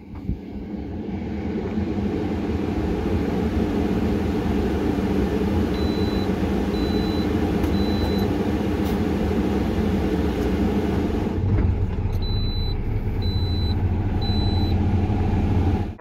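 Truck with a new S13 integrated powertrain engine and T14 transmission running, a loud continuous low diesel rumble throughout, with faint intermittent electronic beeps from the cab partway through.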